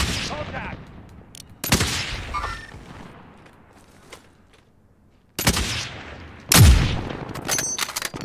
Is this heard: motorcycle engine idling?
no